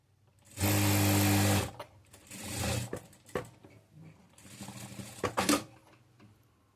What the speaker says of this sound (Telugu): ఇప్పుడు దీనికి జాయింట్ చేస్తూ కుట్టు వేయాలి.